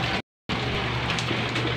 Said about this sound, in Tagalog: Medyo lumalakas na yung ulan.